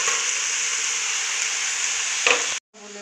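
Vegetables frying in a pan in a home kitchen, a loud continuous sizzle with a brief stir near the end before it suddenly cuts off into quieter room sound.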